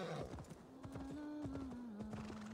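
A horse in Assassin's Creed Valhalla clip-clops along in a quick, regular hoofbeat rhythm, with a drawn-out whinny carrying over the steps and no talk.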